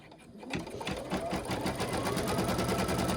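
Embroidery sewing machine stitching a free in-the-hoop house design in a quilting hoop, a steady fast rhythmic clatter that starts after a brief pause and runs loud and close throughout.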